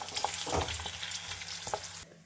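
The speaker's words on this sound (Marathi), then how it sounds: "त्यानंतर नड्डे टाकायचे तेल गरम झाल्यावर।" Nadde fry in hot oil with a close, crackling sizzle and a few stirring sounds, cutting off abruptly near the end.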